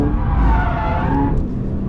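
A Subaru BRZ sliding in oversteer at the Pheasant Wood circuit, engine roaring up close with tyres scrubbing and squealing through the slide, then easing off briefly.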